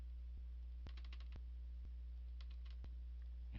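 Computer keyboard keys clicking sharply, a few separate single presses mixed with short quick bursts of typing, close and fairly faint over a steady low electrical hum.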